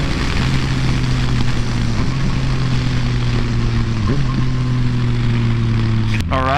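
A 2014 Yamaha FZ-09 three-cylinder engine drones steadily at cruising revs, a loud, close tonal hum with slight pitch shifts between throttle changes, under wind rush.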